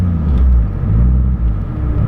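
A widebody single-turbo Toyota Supra idles close by with a deep, loud, steady rumble that swells slightly as light throttle is applied.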